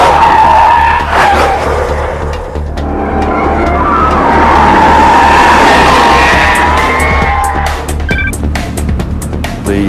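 High-performance race car tires skidding and squealing under a loud roaring engine, a sustained screech running nearly continuously with engine pitch rising and falling as the car pushes hard in full race mode.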